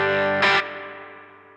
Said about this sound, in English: It's kind of like a whole reverb, but there's almost like a little bit of a spring in there. Right at the tail end, it's got that kind of bounce.